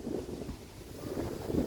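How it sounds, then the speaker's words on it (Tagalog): Steady wind roaring and buffeting the microphone, with low rumbling gusts that swell and fade, no voices. "sa lakas ng hangin."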